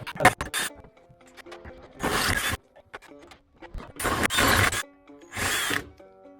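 A power drill bores out and enlarges a hole while a bucket seat is being fitted, sounding in four loud whirring bursts with short quiet gaps and small clicks and rattles between them.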